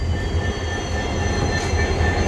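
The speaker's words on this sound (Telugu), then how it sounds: "డీజిల్ ఇంజన్లో అయితే వెళ్తున్నాము." An old diesel locomotive train rumbling steadily along the rails between Jodhpur and Jaisalmer in the Thar Desert, a continuous heavy low drone with a faint high squeal riding on top, no voices.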